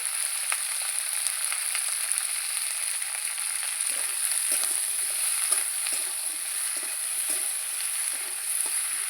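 Spring onion stalks and potato pieces frying in a pan: a steady, dense sizzle runs throughout, with soft stirring scrapes recurring every second or so, close and alone without any voices.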